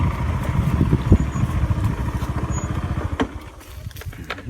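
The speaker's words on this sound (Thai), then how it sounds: "ขี่มอไซค์มาเลยนะครับ" A motorcycle engine runs close by with a steady low, throbbing rhythm on a rural ride near farmland in Khon Kaen, Thailand, easing off toward the end.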